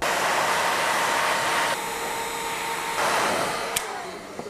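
Heat gun warming heat shrink insulation over a battery cable terminal for a LiFeBATT HPS battery install on a Ducati SS600, a steady close blowing whoosh that dips briefly then returns, ending with a small click.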